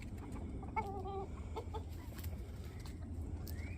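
Backyard chickens, including a rooster named Bootsy, give a short burst of clucks early on, then a steady low yard murmur with scattered soft clucks and no talk over the morning.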